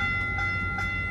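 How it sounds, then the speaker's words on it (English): A Caltrain commuter train at Santa Clara station gives a steady low rumble with tonal, horn-like hums and two brief swells in quick succession. "Caltrain 615 to San Francisco"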